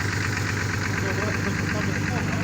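A 1992 Audi 80 Coupe V6 engine idles steadily with a low, even exhaust rumble, close and constant throughout.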